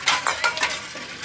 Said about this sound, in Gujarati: ભાભી બેઠા બેઠા વાસણ ધોવે છે.